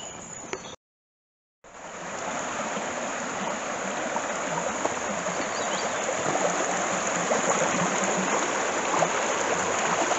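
Running water of a stream near Lake Windermere rushes in a steady, close hiss that cuts out briefly at the start and then flows on unbroken and even.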